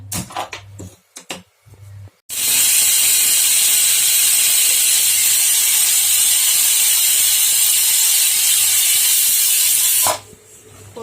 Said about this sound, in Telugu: ఒక 4 విజిల్స్ వచ్చేంత వరకు స్టవ్ మీద పెట్టుకుందాం